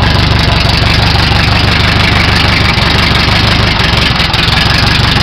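A 1929 Henderson KJ motorcycle engine idles low and steady with the spark retarded, a loud, close, continuous rumble with a faint knocking pulse and no speech over it.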